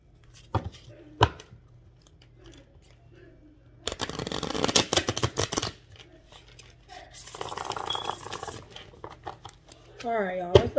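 A tarot card deck is handled and shuffled in quick riffling bursts, with scattered taps before and a longer run of shuffling midway, close and fairly quiet, with speech around it.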